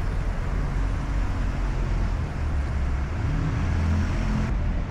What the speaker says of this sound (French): j'ai quand même pas mal de bruit avec les voitures